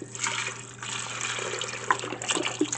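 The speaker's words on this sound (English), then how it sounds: "I'm just gonna fill this up back up with water." Tap water steadily runs into a container in a kitchen, refilling it for bean soup, a continuous close hiss of flowing and splashing liquid with a couple of small clinks.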